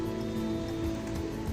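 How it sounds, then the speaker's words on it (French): Steady, dense rain from a night thunderstorm in Amiens hisses evenly with no pauses or voices, a constant wash of falling water heard from close by. "Donc là, ça y est, la pluie est lancée."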